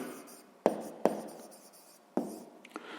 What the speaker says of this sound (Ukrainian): Записуємо четверта дія.